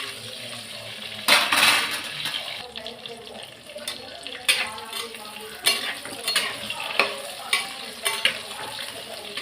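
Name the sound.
brinjal frying in oil in a kadai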